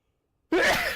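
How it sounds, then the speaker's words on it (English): One sudden, close sneeze bursts in after half a second of silence, a single breathy blast from a person indoors at a gaming setup. "I can't stop sneezing today."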